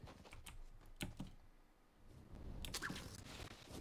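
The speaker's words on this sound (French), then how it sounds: "J'ai l'impression qu'on entend mes clics de clavier et c'est chiant." Faint keyboard keys click in quick irregular bursts, soft and close, over a low background hum.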